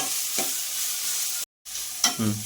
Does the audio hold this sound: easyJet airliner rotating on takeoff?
no